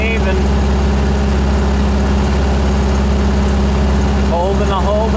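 Air-cooled VW 1600 dual-port engine fitted with radial rocker arms holds a steady 2,000 RPM, a loud, even drone close to the mic with a voice briefly heard over it near the end.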